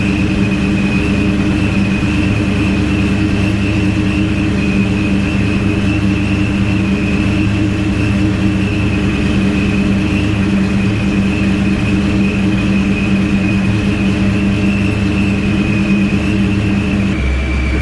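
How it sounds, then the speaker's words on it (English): A car engine idles steadily while warming up, a loud, constant low drone with a faint high whine on top, unbroken and without revving for the whole stretch. "it should be idling around 900 once it's fully warmed up."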